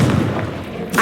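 A short booming blast from the Confringo spell in the video game Hogwarts Legacy, a loud low thump with a brief rumbling tail.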